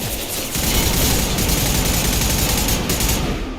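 FENRIS security mechs approaching in Mass Effect 2: dense, continuous rattling bursts like rapid gunfire fill the scene at high volume, sustained without pause after a brief quieter opening.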